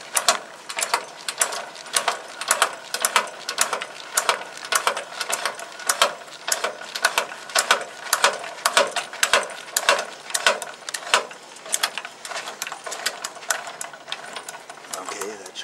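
A trailer jack being cranked with a ratchet, giving rapid repeated mechanical clicks in steady rhythmic bursts, close and continuous for the whole stretch.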